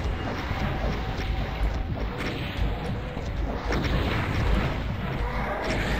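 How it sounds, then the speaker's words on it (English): Revenant homing missiles in Doom II explode in a dense, continuous rumble of blasts and crashes. Repeated impacts blur together under a loud, roaring game din. "the Revenants really like their homing missiles today"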